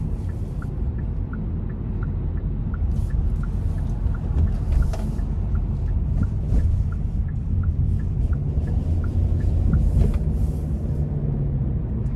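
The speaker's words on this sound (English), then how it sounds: "We're gonna try and give it some throttle here getting on the interstate, see how it performs." 2024 Hyundai Venue SEL with a 1.6 engine and CVT accelerating onto an interstate, heard from inside the cabin as a steady low engine drone and road rumble with faint ticking, continuous and fairly loud.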